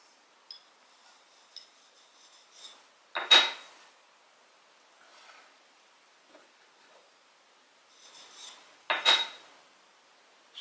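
A woodcarving chisel is honed in short strokes, giving a few quiet, spaced-out scraping rasps of steel on stone separated by near silence.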